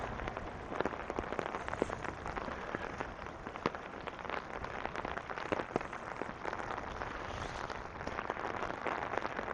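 Steady rain falls outdoors in Regina, Saskatchewan in June, a dense, even hiss of drops spattering on pavement and surfaces with occasional sharper splashes, continuous throughout with no voices.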